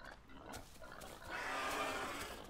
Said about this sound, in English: Oh, it's a baby pig as well.